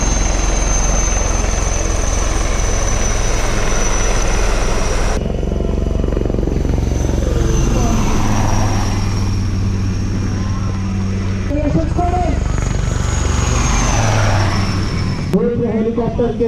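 Army Aviation Rudra assault helicopters with turret guns flying in formation low over the grandstand at an air show: a loud, steady rotor and engine roar that runs throughout with shifting whine.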